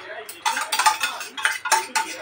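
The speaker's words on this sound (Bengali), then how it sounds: "আস্তে আস্তে করে নাড়াতে থাকবে।" A yogurt and coriander mixture is stirred in a pan, giving bursts of metal utensil scraping and clinking against the pan in irregular strokes, close and fairly loud, with only faint sizzle.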